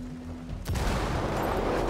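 Gunfire from the video game Ghost Recon Wildlands: a sudden loud burst of shots erupts partway through and rumbles on to the end, following a quiet lead-in.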